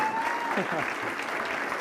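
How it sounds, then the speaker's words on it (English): Audience applause at a TEDx event, a dense, steady burst of clapping from a crowd heard up close with a faint voice under it. "You deserve all the applause and more for winning the first TEDx"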